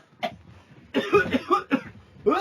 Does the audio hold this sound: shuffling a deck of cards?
no